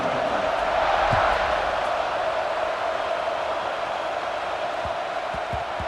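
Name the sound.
football stadium crowd cheering before kickoff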